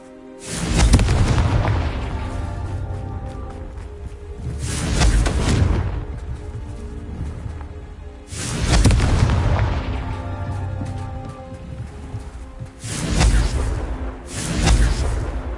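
Spell explosions from the Confringo curse in Hogwarts Legacy go off in repeated blasts, each a sharp booming burst that decays slowly, about four or five heavy detonations spaced a few seconds apart.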